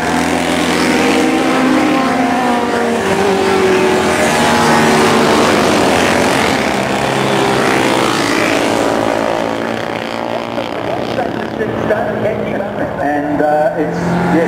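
A racing Fiat Abarth at the AAC Festival of Speed, its engine roaring loudly and steadily close by, then fading slightly, with a commentator talking over it.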